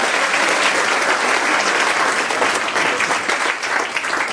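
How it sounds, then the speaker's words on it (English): Loud, dense round of applause from a conference audience at an Asian event, steady and sustained throughout with no pause, hands clapping together in a continuous wash of sound. "Can we give Rama a big round of applause"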